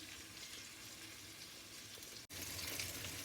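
Chicken frying in a pan with curry leaves gives a steady, hissing sizzle that runs continuously, briefly cuts out, then returns slightly louder.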